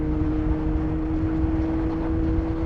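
A motorcycle that has replaced a Honda VFR 750 pulls hard in third gear, a steady loud engine drone with a constant tone holding throughout, dominated by wind and road roar.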